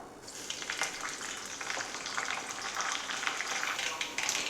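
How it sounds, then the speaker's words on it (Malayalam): Mustard seeds splutter in hot coconut oil with curry leaves and slit green chillies, a close, busy crackle of rapid popping that builds over a steady sizzle, no talking. "കടുക് പൊട്ടി തുടങ്ങിയിട്ടുണ്ട്."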